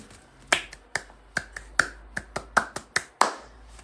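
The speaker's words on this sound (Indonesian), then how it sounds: "Tepuk pramuka." Close, sharp hand claps or snaps beat out an Indonesian scout clapping pattern in irregular rhythmic groups, about a dozen crisp hits in under four seconds against a quiet background.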